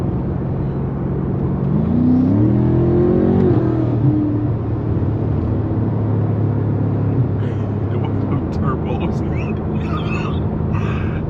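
A BMW M5 Competition turbo engine revs and accelerates with a rising whine, a steady loud rumble throughout, and someone talking over it.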